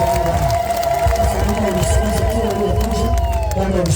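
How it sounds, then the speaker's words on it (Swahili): A church congregation applauds at a service, steady crowd clapping with cheering and murmured voices filling the short stretch at a loud, even level. "Makofi mazuri kwa ajili ya kufanya."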